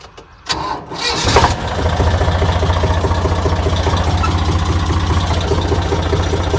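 A tractor's heavy engine cranks and catches, then settles into a loud, steady diesel idle with a rapid low chugging rhythm.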